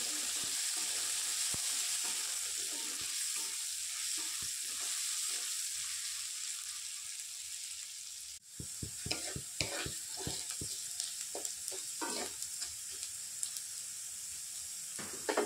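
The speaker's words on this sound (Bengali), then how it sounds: "কাঁচা লঙ্কার পেঁয়াজ আলু একসাথে বেশ একটু ভেজে নেব, যাতে আলুগুলো ভালোভাবে নরম হয়ে যায়" Onion, green chili and potato fry in a pan with a continuous close sizzle; partway through, stirring adds a run of scraping clicks and taps over the hiss.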